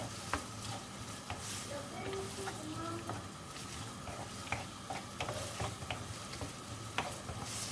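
Thin-cut escalopes searing in a pan make a soft, continuous sizzle dotted with small crackles and pops. The sound is fairly quiet and no one speaks.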